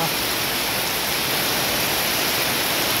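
Heavy rain pours down around a house in flood season, a dense, constant hiss of falling water that stays loud and even throughout.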